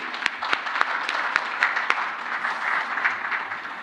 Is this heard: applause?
yes